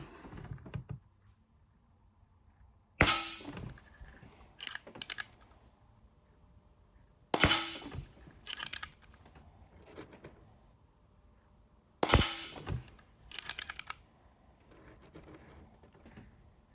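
AirVenturi Comp10 .177 10 meter air gun fired in a shot string, three sharp, close cracks a few seconds apart, each followed by softer mechanical clicks and handling sounds, no talk.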